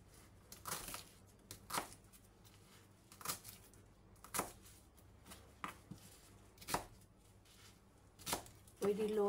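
Knife chopping garlic on a board while preparing Mexican rice, a string of sharp, separate cuts in an uneven rhythm, fairly quiet and close, with a short louder burst at the end.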